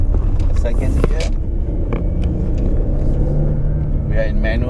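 A 2019 Audi Q8 engine pulls in second gear while going uphill, a loud, steady low rumble from inside the cabin with a few faint knocks and clicks.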